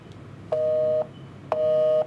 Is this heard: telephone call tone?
yes